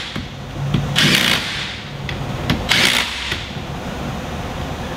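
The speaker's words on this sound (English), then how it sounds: "Grab our little impact, and we're going to just go ahead and tighten the front one." A small impact wrench tightens a bolt on a Polaris RZR motor plate, firing two short, rattling bursts about two seconds apart, close by with quieter handling noises between.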